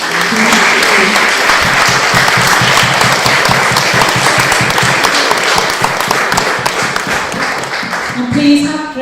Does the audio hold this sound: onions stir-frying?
no